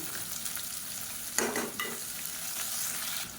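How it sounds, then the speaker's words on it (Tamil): Long-sliced onions sizzle and fry in a pan, with a scraping stir sweeping through midway and a steady crackle otherwise, close and alone without any voices. "இப்போ இந்த வெங்காயம் வதங்கிட்டு இருக்கையிலே"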